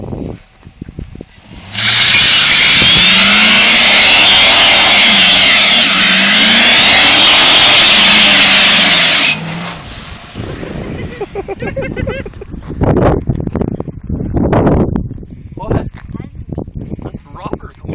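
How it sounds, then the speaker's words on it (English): A GMC Sierra SLE pickup truck does a tire burnout, a loud sustained roaring engine and squealing tire spin lasting several seconds, followed by quieter revs and bursts under excited voices. "Rubber is burning the tire."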